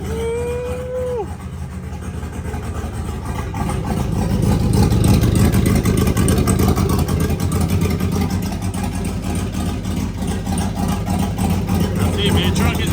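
A turbocharged 5.3 Chevrolet Silverado truck engine rumbles loudly at idle after its first start, a dense, steady throbbing drone that swells early and holds, close by, with a brief whistle-like rise at the beginning.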